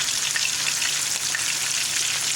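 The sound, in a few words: oil popping while frying fish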